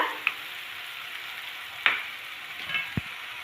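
Onion frying in a pan with salt and garlic paste, a soft steady sizzle with a few brief scraping clicks from stirring and a low knock near the end.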